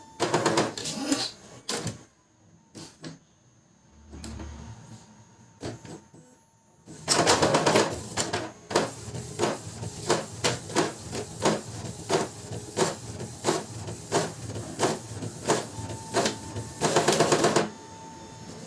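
An Epson L3110 inkjet printer runs a print job. Mechanical whirring, clicking and rhythmic carriage bursts come close and loud, with a pause near the start and then repeated pulses.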